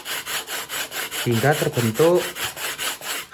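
Coarse sandpaper rubbed back and forth over balsa wood while building a rubber-powered stick model plane, a steady rhythmic rasping of repeated strokes, close and fairly loud, with a brief spoken phrase over it midway.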